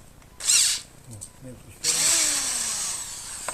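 Power drill boring a hole at a screw spot in a homemade build, two bursts of high whirring, one brief and one sustained, with quiet talk in between.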